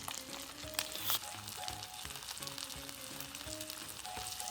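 Steady sizzling of trout frying in butter in a pan, with faint clinks and a low background hum, fairly quiet and continuous.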